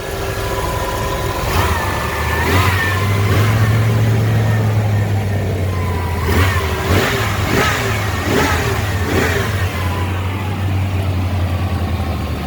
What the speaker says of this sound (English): The engine, okay, obviously it's running right now.